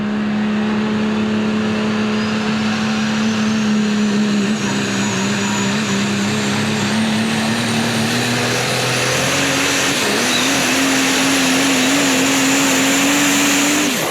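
Super Stock diesel 4wd pulling truck Oversized Load making a pull, a loud sustained engine roar with a droning tone that climbs steadily, plus a whistling turbo whine rising across the run.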